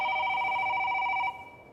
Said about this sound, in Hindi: अचानक फोन बजा।